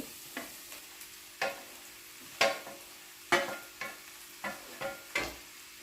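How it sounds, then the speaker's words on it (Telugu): Okra stirred and fried in a pan with peanuts makes soft, quiet sizzling broken by about eight sharp spatula scrapes and taps against the pan, spaced irregularly, with no talk. "ఇప్పుడు బెండకాయలు వేసుకొని అంతా కలిసేటట్టు కలుపుకోవాలి"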